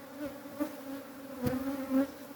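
Honey bees buzz at a hive in an apiary, several close wingbeat drones overlapping in a steady, fairly quiet hum with small swells as individual bees pass near.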